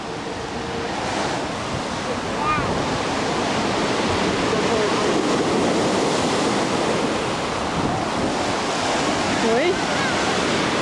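Rough sea surf on a rainy day at Kabardinka roars loud and continuous up close, a dense wash of breaking waves with faint voices briefly over it.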